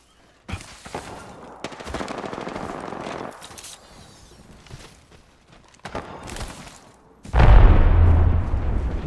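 Rapid automatic gunfire in the battle royale shooter Apex Legends, several loud bursts separated by short gaps, ending in a heavy, booming sustained volley.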